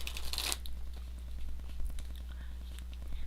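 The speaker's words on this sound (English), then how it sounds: "I'm shuffling the cards and see if I could tell you what's going on" Tarot deck being shuffled during a live reading, a soft papery riffle burst at the start followed by faint card handling under a low steady hum.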